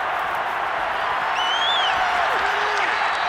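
Crowd applause in the Madden 22 football video game during a Titans versus Chargers matchup, a steady wash of clapping and crowd noise with faint whistles over it.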